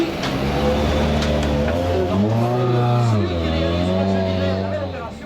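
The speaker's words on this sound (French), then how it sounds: "prend le volant de sa DS3 pour monter sur le podium et saluer les aficionados fidèles au poste" A Citroën DS3 rally car engine revs at a rally podium, its pitch swelling and falling in strong sweeps while a crowd murmurs and a French commentator talks over it.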